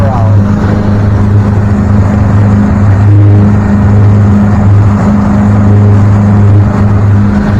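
A Yamaha 70 HP outboard motor drives a MacGregor 26X sailboat at a steady 3,000 RPM, its loud, even drone holding throughout with a constant low hum and wind rush.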